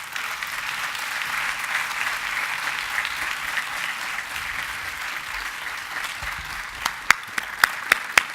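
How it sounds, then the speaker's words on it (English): An audience at a business school event claps in sustained, even applause that carries on for several seconds, then thins out into a handful of scattered, sharp individual claps at the end. "let's give Mr. Fernandez another round of applause"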